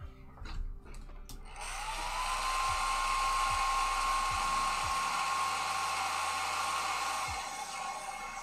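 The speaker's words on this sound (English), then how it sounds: "Hair dryer." A hair dryer switches on after a few clicks and blows with a steady, loud whoosh and a high whine, running continuously nearby, used for weathering an HO scale model diesel locomotive.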